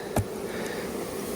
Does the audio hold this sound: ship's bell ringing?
no